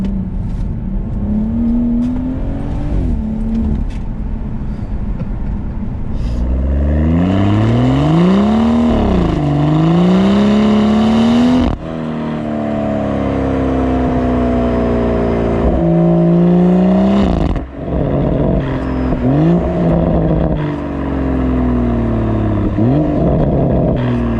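A BMW M240i's Quicksilver valved exhaust revs hard and loud up close, climbing and dropping through repeated pulls in first and second gear with brief breaks between gear changes.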